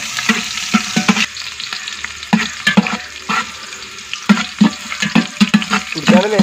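Onions sizzle loudly in hot ghee in a pot while being cooked for Kannur-style biriyani, with bursts of frying crackle and intermittent stirring clatter up close.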